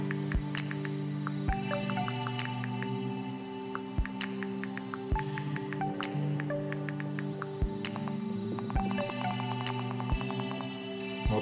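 Rapid iOS 10 keyboard clicks on an iPhone 5 while a message is deleted: quick, sharp ticks in uneven bursts over steady background music, close and clear, with no speech.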